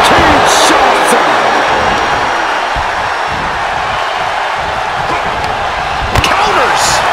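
In a PWF Unleashed pro wrestling match, a clothesline lands as a sharp slam, with a few more smacks heard over the loud, continuous roar of the crowd.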